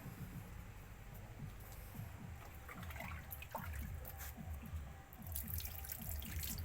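Water poured by hand onto potted winter-season flower plants in six-inch pots, a steady low trickle and splashing that runs continuously at moderate level, with no talk.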